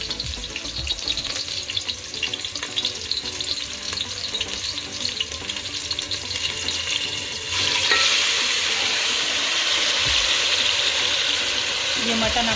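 Marinated mutton for biryani goes into a hot pan and fries, a steady close sizzle that grows louder and brighter after it is added, with stirring sounds on top.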